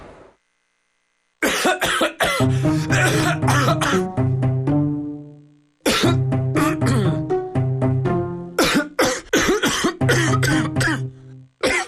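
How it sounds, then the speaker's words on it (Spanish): Repeated harsh, phlegmy coughing bursts, close and loud, with a short pause midway before another run of coughs. "¿La tos no te deja trabajar?"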